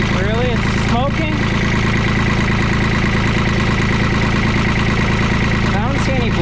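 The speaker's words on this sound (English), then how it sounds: "A little diesel motor." The small diesel engine of a New Holland LS125 skid steer idles with a steady, loud, rattling chug, close up, while someone talks over it.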